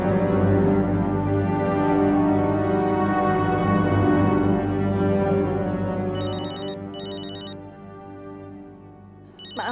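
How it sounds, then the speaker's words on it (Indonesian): An old-style telephone bell rings continuously and loudly for several seconds, then a brighter electronic ring pattern chirps in short bursts near the end, with no one talking over it. "saya jawab telepon saya dulu"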